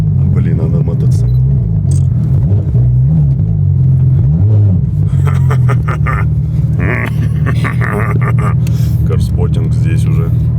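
A Porsche 911 GT3 RS with a manual gearbox drifts on snow in winter, its engine rumbling loud and close throughout, with revs rising and falling under people talking.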